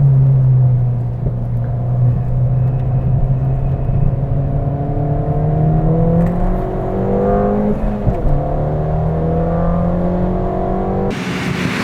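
A car on a wet race track accelerating with wheelspin, its engine droning loud and steady with rising whirring tones throughout, with no talk.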